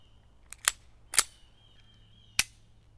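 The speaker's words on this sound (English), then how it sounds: "Let's take these shots at 25 yards and see how she does." Stainless Inox Beretta 92FS pistol fired at an outdoor range at 25 yards: four sharp, distant-sounding shots at uneven intervals, with faint ambient hum between them.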